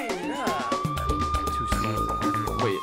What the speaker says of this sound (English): Siren, siren.